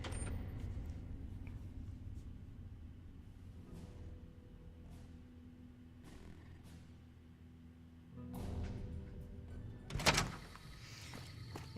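A door opens with a low thunk in the Fallout: New Vegas video game, set against a steady low ambient hum, followed by a louder clunk and a brief mechanical rattle near the end.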